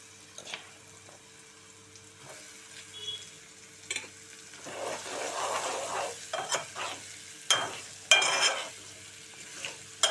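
Bottle gourd pieces dropped into a pan of frying onions, a quiet sizzle that swells into louder bursts of crackling with scattered spoon scrapes and clinks, with no voices.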